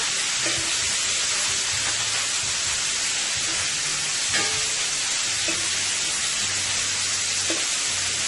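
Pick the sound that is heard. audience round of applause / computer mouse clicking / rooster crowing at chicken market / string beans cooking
string beans cooking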